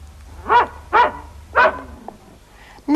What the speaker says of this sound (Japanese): 犬